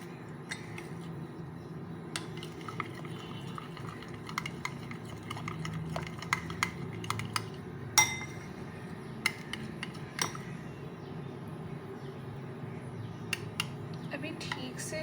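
A spoon clinks and scrapes against a bowl while melted chocolate mixture is stirred for an eggless chocolate mousse cake, with irregular light taps over a soft background hum.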